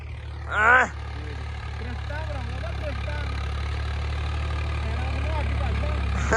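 A Swaraj 744 tractor engine idles steadily with a low, constant rumble throughout, while someone talks briefly over it near the start.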